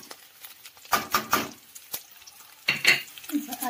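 A spoon scrapes and clinks against a pan while vegetables sizzle for veg Manchurian. Several irregular stirring strokes come close and clear.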